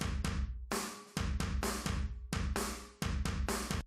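A drum room track crushed with heavy compression and saturation bursts through in dense, roaring hits, roughly a dozen loud, splashy strikes in a driving emo pop-punk pattern with long washy tails and no talking.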